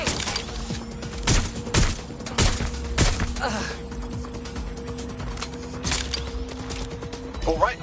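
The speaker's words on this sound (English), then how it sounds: "They're shooting!" Gunfire in the video game Watch Dogs Legion: repeated sharp bursts of shots rattle out across several seconds over a steady mechanical hum, with a voice speaking amid the action.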